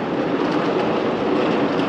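An MRT train rides from Taoyuan Airport toward Taipei Main Station, giving a steady, loud interior rumble and rolling hiss without distinct clacks or voices.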